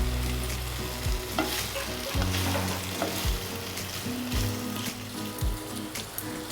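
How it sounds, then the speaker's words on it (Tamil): Paneer sizzles in oil in a kadai while a utensil stirs and scrapes it in repeated strokes, a steady close frying hiss broken by regular clinks and scrapes. "பன்னீரை இது மாதிரி வதக்கி எடுத்தாச்சு."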